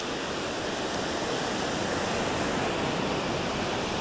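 Sea waves washing on a shore, a steady broadband rushing wash with no clear breaks, moderately loud and close, with no voices.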